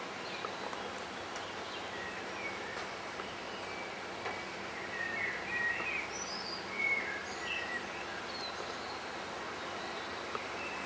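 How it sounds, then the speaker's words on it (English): Birds sing faintly among trees in Avoca, Ireland, a few scattered chirps and short phrases rising over a low outdoor hum, distant and quiet, with no talking. "Listen to the birds then."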